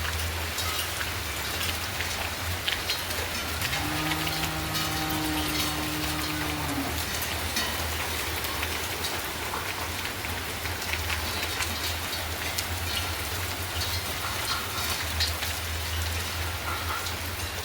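Steady rain falls on a farm in Punjab after three days of wet weather, a continuous dense hiss of drops on surfaces, with a brief tonal hum rising in the middle.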